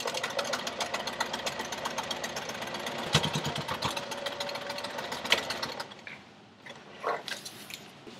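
A sewing machine back stitches a fabric seam for an umbrella tote, its needle chattering in a fast steady run for about six seconds, then stopping with a few faint clicks and handling noises afterward.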